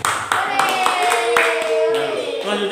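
A classroom of students claps hands in a short burst of sharp, uneven claps, with a voice talking over and between them at close range.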